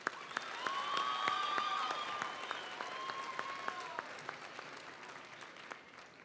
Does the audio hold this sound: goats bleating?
no